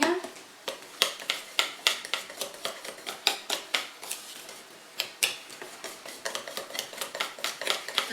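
Four large eggs are beaten into white wine cake batter in a bowl, heard as a steady run of quick, close clinks and taps of a utensil against the dish.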